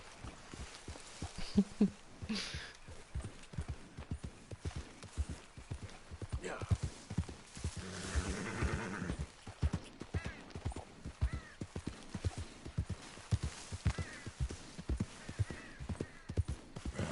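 Horse hooves in the video game Red Dead Redemption 2, a steady rhythmic clatter of gallop under game sounds and someone talking over it.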